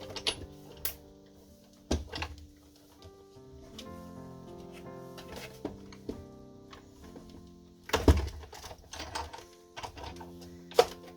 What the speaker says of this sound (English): I want to send it through my Sizzix